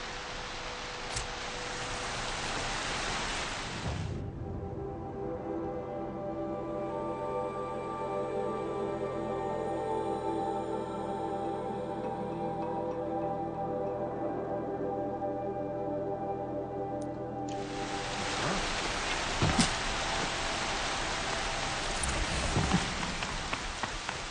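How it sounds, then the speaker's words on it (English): Steady rain pours down in the video game Horizon Zero Dawn, a dense, continuous hiss that swells louder at the start and end with a softer, more sheltered stretch in the middle. "Air's heavy with rain."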